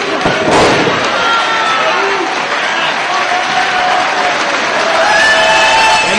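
A wrestling arena crowd at a Detroit show claps and cheers in a loud, dense roar that holds steady throughout, one sharp pop standing out near the start.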